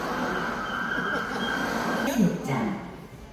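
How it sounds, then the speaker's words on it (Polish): A Busan subway train pulls into a station with a steady, loud rumble and a rising wheel squeal, while a voice is heard over the noise. "열차가 들어오고 있습니다"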